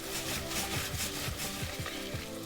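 Butter foaming in a pan with carrots, a steady soft sizzle and bubbling hiss with faint repeated stirring scrapes, close and fairly quiet, no talk.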